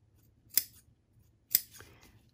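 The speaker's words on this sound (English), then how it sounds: "wherever I have curves, I'm just gonna give them little snips so that it turns around a much smoother" Scissors give two sharp, close snips about a second apart as they clip into the curved seam allowance of a fabric banana leaf placemat during sewing, with quiet room tone between the cuts.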